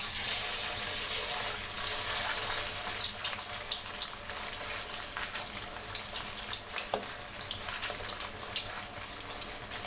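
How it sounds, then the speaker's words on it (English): Beef fries in hot oil for lo mein, giving a steady, dense sizzle with small crackles and pops throughout, close and moderately loud. "I'm gonna fry my beef in this hot oil"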